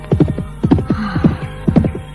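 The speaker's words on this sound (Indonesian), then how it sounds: "Itu suara kuda ajaib yang kujumpai tadi." Up close and loud, a horse neighs in a string of rapid, quavering whinnies, four or five wavering bursts in quick succession over a faint low hum.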